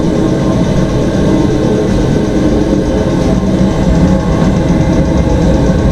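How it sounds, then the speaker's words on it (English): A steady, even military tent heater fan drone hums close by, constant and unchanging with no voices. "That's got to be one of the quietest fans I've ever heard in my life."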